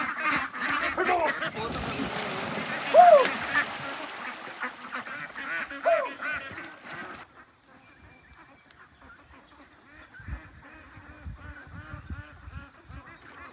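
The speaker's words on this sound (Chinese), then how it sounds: "把鸭子赶一下，基本上都出来了。" A flock of about two hundred farm ducks being driven toward open water, their quacking and honking calls overlapping loudly at first, then thinning to scattered calls with splashing and footsteps; people talk in the background.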